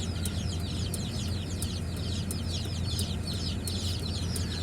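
Meat bird chicks packed into two small boxes in a warm truck cab, a dense, steady chorus of high cheeping running continuously under low engine rumble.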